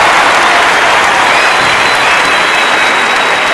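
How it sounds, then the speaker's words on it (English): An audience of hospitality students at a convention gives a chef loud, sustained applause, a dense, even roar of clapping with faint cheering that holds at full strength throughout. "Students, can we please have a huge round of applause for Chef Giovanni Di-Vito."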